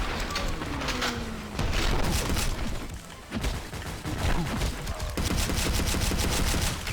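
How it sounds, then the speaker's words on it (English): Rapid pistol fire from the video game Maximum Action crackles in dense continuous bursts, loud and close, with brief lulls and booming impacts mixed in. "I love how you can just fire the pistol like a machine gun."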